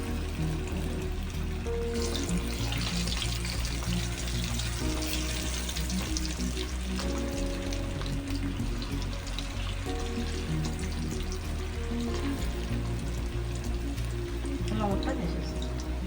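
Gobi 65 cauliflower pieces fry in hot oil with a steady bubbling sizzle running under talk and background music across the whole stretch.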